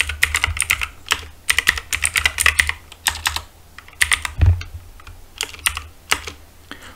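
Rapid bursts of typing on a computer keyboard while writing script code in Roblox Studio, clustered clacking keystrokes with short pauses between runs, close and clear with no talk.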